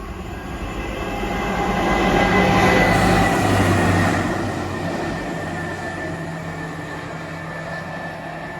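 A maintenance train rumbles past, swelling louder mid-pass with a rolling wheel noise and faint squeal, then fading to a steady distant hum.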